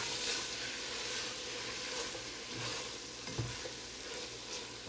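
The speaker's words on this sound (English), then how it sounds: "Just gonna stir to incorporate that." Barbecue sauce being stirred into a pan of simmering food, a soft, steady sizzle and scraping stir close by, faint and continuous with no talk.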